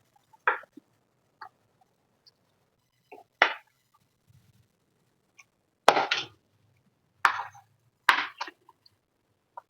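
Knife chopping ingredients for a home biryani, a few sharp isolated chops on a cutting board spaced irregularly, close and fairly quiet with silence between strikes.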